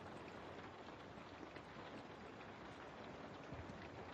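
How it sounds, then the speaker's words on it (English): Rain falls steadily as a soft, even hiss with no distinct drops standing out, faint and unbroken for several seconds with no voices. "If you're listening to these rain noises, then yeah, probably you'll be asleep again."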